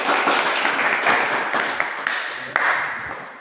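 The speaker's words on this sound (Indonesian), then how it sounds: "untuk dua, tepuk tangan dulu" Applause from a classroom group of university teacher-training participants, a dense burst of clapping that slowly fades over a few seconds, with a few louder single claps near the end.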